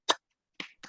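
Hands clapping a rhythmic spirit cheer in a classroom: one sharp, loud clap, a short pause, then two quicker, softer claps close together.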